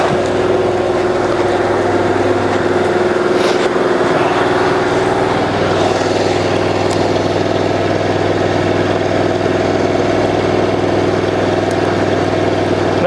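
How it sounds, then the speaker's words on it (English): A cold water jetter engine idles close and loud, a steady mid-pitched mechanical drone with a constant hum and faint ticking that runs unchanged throughout. "That machine can idle all day as long as you got fuel."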